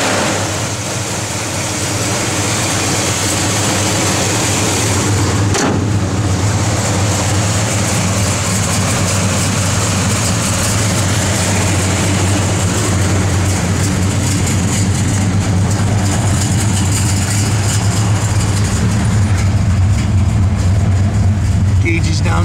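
A 1969 Chevrolet Chevelle SS V8 with a lumpy cam idles steadily and loudly nearby, a deep continuous rumble with voices talking over it.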